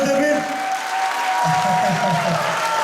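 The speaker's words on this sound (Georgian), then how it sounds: "ამას ჭირდება ისეთი აპლოდისმენტები" Applause at the Georgian choreographic and folk festival "Patriot 2026", a steady wash of clapping that lasts throughout, with a voice speaking over it and some tonal sound mixed in.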